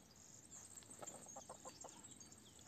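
A chicken clucks in a short series of soft, quick clucks, faint and close, over a quiet background hiss with no talking.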